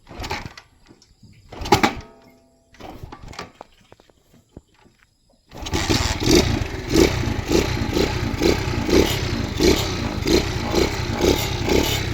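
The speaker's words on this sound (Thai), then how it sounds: "เดี๋ยวเรามาฟังเสียงเครื่องกันนะครับ" A stock Honda Gorilla motorcycle engine cranks in a few short bursts with pauses, then catches and settles into a steady, fairly loud, evenly pulsing idle heard alone.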